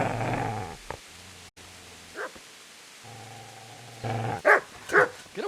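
A dog in a video game growls low and steady, then breaks into several sharp barks and yips near the end, close and loud, with game sound in between and no talking.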